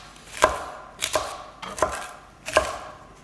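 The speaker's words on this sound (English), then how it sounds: "you're going to go over and initially just chopping down" Four crisp knife chops through salad vegetables on a cutting board, each a sharp thud spaced evenly about two-thirds of a second apart, close and clear with nothing else heard.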